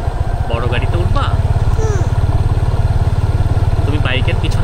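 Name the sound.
motorbike engine running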